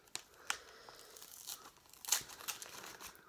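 Packaging of a beauty advent calendar is torn and crinkled open, with scattered rustles and a few sharper tearing bursts, quiet and close with no talking.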